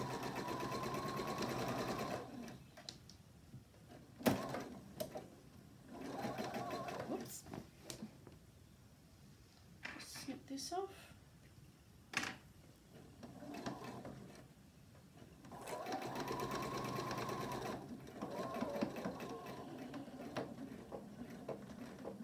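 A home sewing machine runs in steady bursts as it stitches bias trim along the edge of a Christmas stocking. It whirs close and clear, pauses in between with small handling clicks, then runs again at length.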